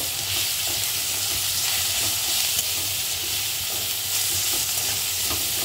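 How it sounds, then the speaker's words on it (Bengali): Onion and tomato fry in hot oil while salt and turmeric are stirred in, a loud, steady, close sizzle with soft scraping of the stirring spoon underneath. "সব ভালো করে আবার মিশিয়ে নেব।"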